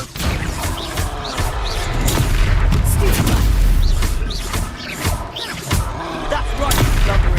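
Confringo blasting spells go off in a Hogwarts video game battle as repeated loud booms and crashing impacts, hitting in quick succession over dense combat noise with voices speaking in between.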